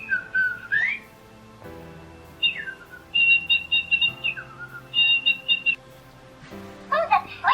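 A Little Live Pets Light Up Songbird toy whistles and chirps in bright electronic trills and repeated tweet phrases, close and clear, over a soft background hum.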